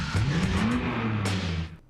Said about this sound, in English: that sounded like a car revving up